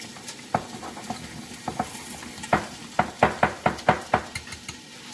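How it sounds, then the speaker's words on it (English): Whisking a cauliflower masala mixture with a whisk or spoon, giving a run of quick, close scraping and clicking strokes that pick up into a steady rhythm midway, with no talking. "I'm gonna mix all this. Whisk it a little bit with a whisker or the spoon or whatever you have."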